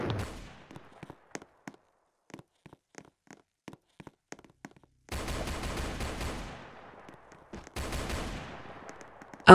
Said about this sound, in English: Gunshot, A-G-H.